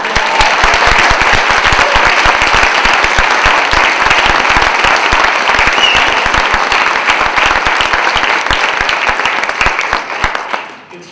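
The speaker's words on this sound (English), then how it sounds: "Let's just get a round of applause, not just for the winners, who are amazing, but for all those awesome finalists out there" Loud, sustained applause from an awards-ceremony audience honoring literary award winners and finalists, dense clapping holding steady for about ten seconds before tapering off at the end.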